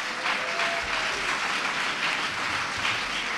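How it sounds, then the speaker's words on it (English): Audience applause at a sustainable agriculture lecture, a soft, steady wash of many people clapping from a distance, continuing evenly without pause. "Let's give everybody a round of applause"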